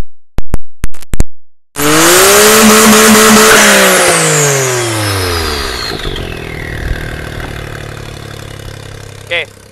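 A half-cut car engine on a stand cranks in several short clicks, catches and roars, then revs high and settles back down toward idle, loud and close, with a brief final blip.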